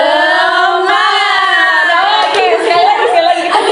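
A group performs the 'tepuk semangat' clap chant at a vocational school session. Steady clapping runs through a loud, continuous chant of voices with shouts mixed in, close and dense.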